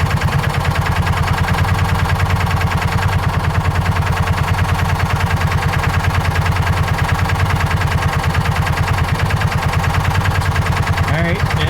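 A John Deere Gator 4x2 utility vehicle's engine idles steadily at close range, a continuous even throb running for the whole stretch, with a brief clatter near the end.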